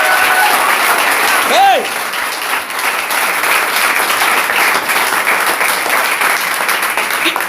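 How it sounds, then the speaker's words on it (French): A church congregation breaks into sustained applause for the Lord, a loud, dense wash of clapping from many hands that carries evenly through the whole stretch, with a brief shout near the start. "Applaudissons pour le Seigneur."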